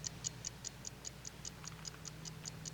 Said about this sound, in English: So now the watch ticks.